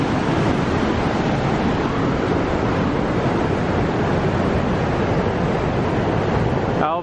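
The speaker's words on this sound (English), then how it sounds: "the first waterfall." Iguazu Falls roaring at Puerto Iguazu, a loud, constant, broadband rush of falling water that holds steady throughout with no breaks.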